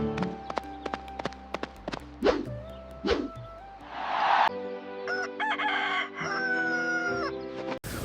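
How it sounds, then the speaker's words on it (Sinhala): Cartoon roosters crow loudly amid clucking, running footsteps and playful music and sound effects in an animated village scene. "අනේ හපොයි මේ කුකුල්ලු කෑ ගහන්න පටන් ගත්තම නිකම්ම හැටෙනවනේ බොල."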